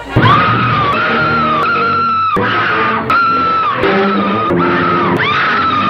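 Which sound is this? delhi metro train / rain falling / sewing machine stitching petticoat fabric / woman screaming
woman screaming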